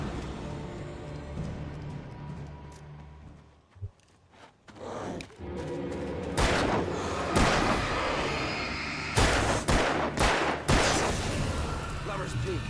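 Gunfire erupts in the Alan Wake video game, a series of loud sharp shots in bursts over a continuous tense in-game ambience, with a brief quieter lull before the firing intensifies.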